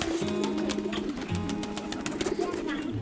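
Pigeons coo in low, repeated throaty rolls close by, with faint bird chatter and background noise throughout.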